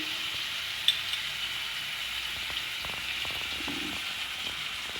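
Spice paste of dried red chili paste, salt and turmeric being fried and stirred in oil in a pan, a steady close sizzle with occasional soft scrapes and clicks, no talking.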